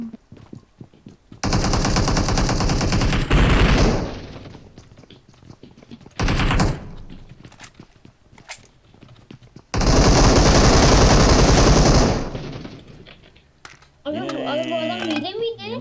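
AK rifle fire in PUBG Mobile rattles out in long sustained automatic bursts, loud and close, separated by quieter pauses, with a voice speaking briefly near the end.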